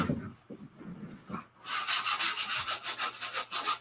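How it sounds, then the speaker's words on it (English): A block sander rubs across wood in a fast, loud back-and-forth rhythm of gritty strokes, after a few softer scrapes. "Let's use the old block sander."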